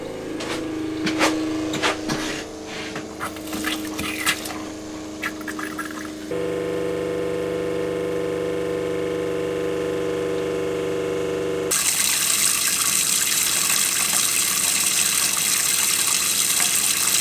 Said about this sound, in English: let's turn the water pressure pump on again.